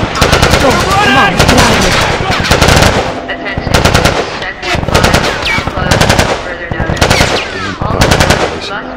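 Rapid machine-gun bursts in The Last of Us on PS3, loud and close, in repeated volleys with brief pauses between them, over shouted voices.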